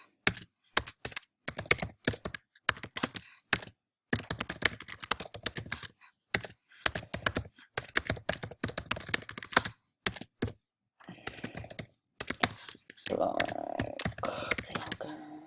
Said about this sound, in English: Then I'm going to go busy typing in my